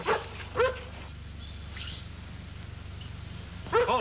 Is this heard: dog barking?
yes